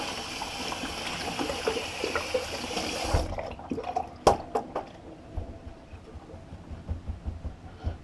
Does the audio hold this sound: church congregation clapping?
no